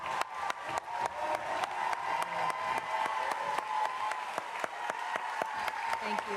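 Audience applause for a speaker at a New York City mayoral education announcement, steady rhythmic clapping from a sizable crowd with a voice speaking faintly over it.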